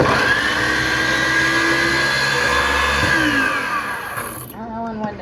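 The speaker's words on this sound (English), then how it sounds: "I'm just going to try to blend it up in here instead" A blender whirs loudly while pureeing garlic for homemade salsa, holding a steady motor whine before cutting off, after which a voice speaks briefly.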